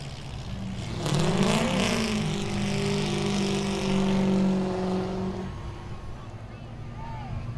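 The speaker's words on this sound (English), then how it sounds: "He will pull into the Dale Lemons victory lane" A Grand Stock race car at Langley Speedway rolls into victory lane. Its engine rises and holds a steady, throaty drone for a few seconds, then fades, while an announcer talks over it.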